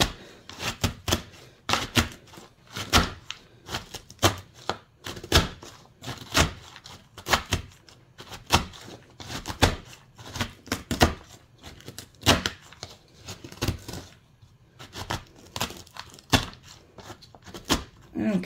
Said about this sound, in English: I'm going to use my meat masher, a clean meat masher